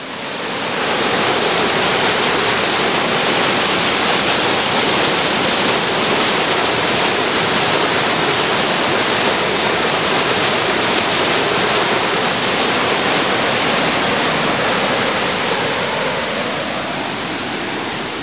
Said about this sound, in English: here is why you don't want to play in front of a storm drain during a heavy rain